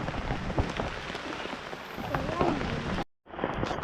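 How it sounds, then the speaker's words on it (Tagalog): Heavy rain pours steadily and loudly onto surfaces nearby, a dense constant hiss, briefly cutting out near the end. "lumakas na talaga yung ulan lalo"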